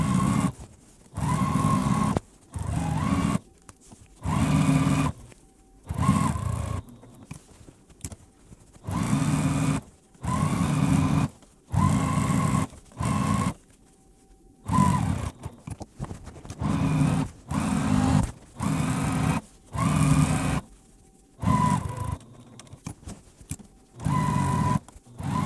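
A sewing machine stitches the binding along the edge of a beginner-friendly quilted and cross-stitched pillow, running in many short bursts of steady whirring with brief pauses between, loud and close.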